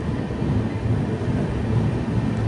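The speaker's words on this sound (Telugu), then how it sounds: "బెంగళూరు సూపర్ ఫాస్ట్ ఎక్స్ప్రెస్ అయితే స్టార్ట్ అయిపోయింది ఇక్కడ నుంచి" The Bangalore Superfast Express rumbles out of a busy Indian railway station, a deep continuous low-frequency roar of wheels and carriages close by, steady and without any voices.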